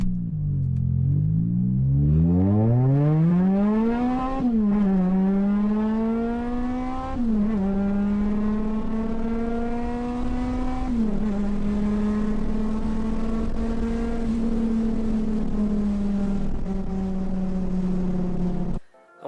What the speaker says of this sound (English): at Colton McAllister on Instagram wanted to see a pull through all 6 gears to redline